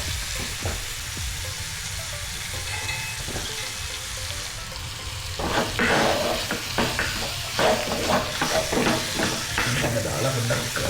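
Chicken pieces stir-fried with chili powder and oil in a pan for homemade kothu, loud close sizzling with repeated spatula scrapes and clatters, the stirring growing busier partway through.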